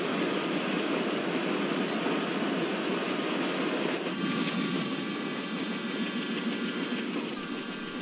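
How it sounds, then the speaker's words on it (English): Twin Alco WDG3A diesel locomotives hauling milk tankers rush past at high speed on an Indian railway line, a loud continuous roar and rattle of wagons heard from a neighboring train. "it is twin WDG3A locomotive with milk tankers which is crossing our train with a high speed"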